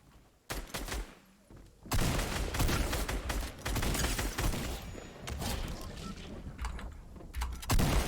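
Bursts of rapid gunfire in a Fortnite match, dense and loud, running in long stretches with short pauses between volleys.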